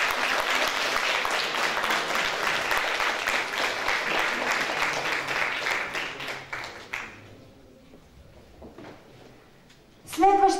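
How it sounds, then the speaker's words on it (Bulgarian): Audience applause at a sports awards ceremony, a dense sustained clatter of many hands that fades out after about seven seconds, followed by quiet room noise and a brief sharp clatter near the end. "Моля, аплодисменти!"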